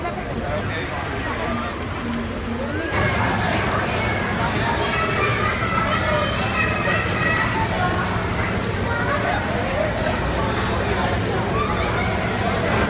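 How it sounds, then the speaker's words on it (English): Heavy rain pours in big droplets along Hollywood Boulevard, a dense steady wash that swells after the first few seconds and stays loud, with a crowd murmuring and voices talking underneath. "Started raining like a lot. Pouring big droplets"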